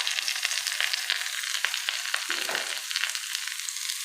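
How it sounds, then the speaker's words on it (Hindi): Grated carrot and onion fry in a pan with a steady, bright sizzle throughout, broken by a few soft stirring scrapes, close and fairly loud with no talking. "गाजर को और प्याज को अच्छी तरह फ्राई कर लीजिए।"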